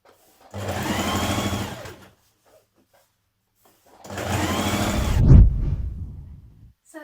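A domestic sewing machine stitches a double fold hem on a loose dress in two close bursts of rapid whirring, each about a second and a half long, separated by a pause, with a thump near the end of the second.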